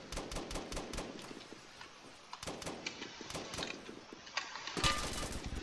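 Rapid bursts of automatic gunfire from a Roblox Blackhawk Rescue Mission 5 PVP match, with dense, repeated shots through most of the moment and a loud cluster near the end.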